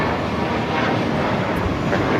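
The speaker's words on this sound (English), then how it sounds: "677 taking off to San Francisco on the A319" An American Airlines Airbus A319, an older ex-America West jet, roars loudly on its takeoff run at LAX, a dense continuous engine rumble close by.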